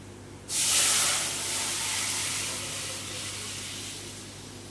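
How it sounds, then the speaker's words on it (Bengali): Whole spices for tempering dal hit hot oil in a Mughlai-style dal and burst into a loud, close sizzle. The hiss starts sharply, then settles into a steady crackle with no talk. "এবারে আমি ডাল ফোড়ন দিয়ে দেবো।"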